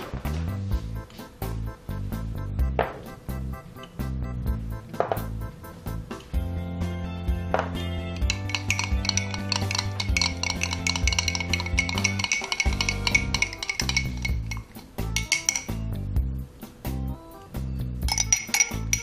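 Utensils clink and scrape against a bowl while a tabbouleh-style salad dressed with oil is tossed, with rapid, irregular metallic taps and clatters close by, some busier stretches, and no voices.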